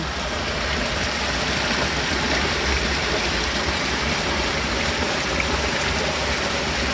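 A mountain stream on a trail in the Pyrénées-Orientales near Mosset, with water running everywhere, gives off a steady, full rush of flowing water close by. It holds even and unbroken throughout, with no voices.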